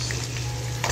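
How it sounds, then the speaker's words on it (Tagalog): Ground pork browning in a pan, a steady close sizzle with a faint scrape near the end, no talking. "yung giniling, pababrownin lang natin ng konti"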